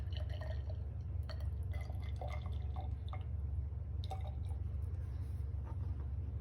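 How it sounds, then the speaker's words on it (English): Water swirled and rinsed inside a glass graduated cylinder in a chemistry lab, faint trickling and dripping sounds with soft clinks over a steady low background hum. "So I'm gonna rinse that graduated cylinder, make sure that it is clean."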